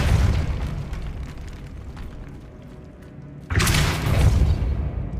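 A Depulso spell blast in the Hogwarts Legacy video game hits as a sudden loud booming burst over a rumbling game soundscape, the blast lingering for a couple of seconds.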